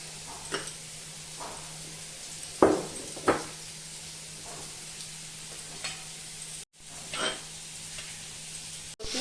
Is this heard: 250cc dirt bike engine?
no